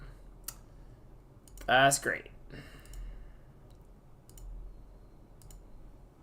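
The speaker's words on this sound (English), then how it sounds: "this keyboard is bugging out" A few sharp, sparse clicks from a malfunctioning computer keyboard, close and fairly quiet, with a short spoken remark in the middle.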